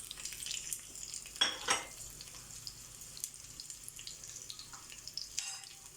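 Quiet sizzling of onion, dried chillies and curry leaves frying in a pan for sambar, with a brief scraping stir partway through and soft clinks over a steady hiss.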